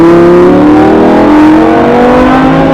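Lamborghini engine at full throttle on the Mas du Clos circuit in Aubusson, Creuse, a loud, close, sustained roar with the pitch climbing smoothly as it revs.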